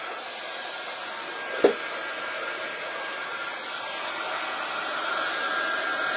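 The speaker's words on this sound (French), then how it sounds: "je vais venir la chauffer au pistolet chauffant" A heat gun warms gilding powder on a card, producing a loud, steady blowing roar that runs unbroken from start to finish, with one brief knock early on.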